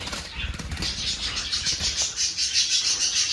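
A pair of adult diamond doves in a pet bird enclosure call nearby, a rhythmic series of soft repeated calls with faint rustling beneath and no speech.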